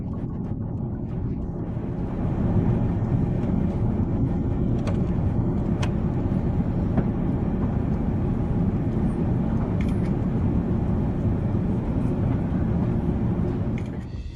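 An airplane in flight at cruising altitude, a steady loud engine drone with rushing noise that holds for over ten seconds, faint clicks scattered through it.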